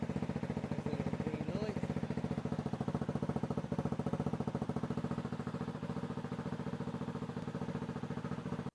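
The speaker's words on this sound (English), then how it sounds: "I have to start the bike, have it running to see if it gets any power" A motorcycle engine idles nearby, loud and continuous with an even, rapid pulsing throughout, and a faint higher whine appears briefly early on.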